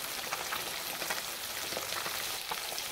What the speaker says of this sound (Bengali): সুন্দরভাবে মাছটা ভাজা হবে